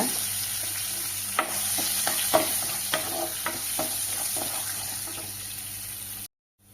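Curry leaves and green chillies stirred in a pan for rava kara paniyaram, a steady close sizzle with repeated scraping strokes of the spoon, then sudden silence at the end.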